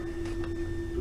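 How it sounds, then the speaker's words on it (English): A 3D printer prints a sprocket, giving off a steady, even whirring hum with a constant tonal whine and no pauses. "So it's on the printer now, you can hear that in the background."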